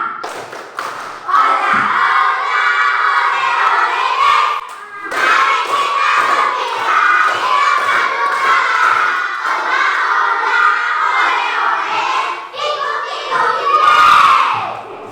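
Classroom of children performing the tepuk gembira clapping chant, a loud, dense burst of rhythmic claps and shouted chanting from the whole group that carries on for about fifteen seconds.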